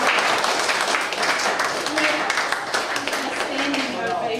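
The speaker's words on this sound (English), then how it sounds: "I think that deserves a round of applause." Sustained applause from a lecture audience after long years of service are honoured, dense steady clapping filling the room throughout with a few voices under it.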